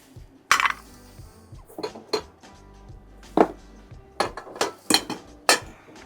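Vintage cups with thin, dainty handles being set down on a surface, giving irregular clinks and hollow knocks spread over several seconds, close and moderately loud.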